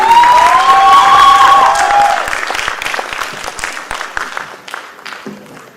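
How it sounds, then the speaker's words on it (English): Audience applause at a company foundation day celebration, starting under a fading musical swell with whistling tones, then thinning into scattered individual claps that trail off toward the end. "Big round of applause to her."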